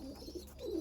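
An Andhra pigeon gives a soft, brief coo, faint and close, low murmuring tones over quiet room background.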